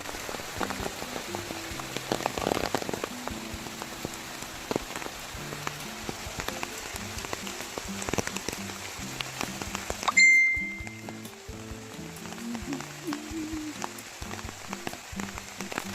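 Monsoon rain falls steadily in a village in Kerala, a dense patter of drops on surfaces with scattered sharper drips and clinks, continuous and close, with no voices.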